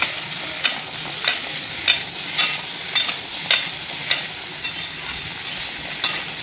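Cut potatoes frying in spiced oil in a pan, stirred with a spatula: about ten regular scraping strokes repeat over a constant sizzle.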